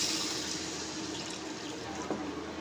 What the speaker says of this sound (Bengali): টমেটো দিয়েই আমি এখন তরকারিতে ঝোল দিয়ে দিব।